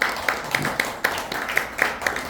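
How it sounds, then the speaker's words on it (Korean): Sparse, evenly paced handclaps from an audience at an annual general meeting of a Korean heritage preservation society, about nine sharp claps in two seconds at moderate volume with no talk over them. "박수로."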